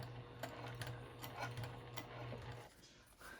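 A Juki sewing machine runs slowly while top stitching a vinyl zipper pouch, making a soft, steady mechanical whir with light rhythmic ticking that stops after about two and a half seconds, quiet and close.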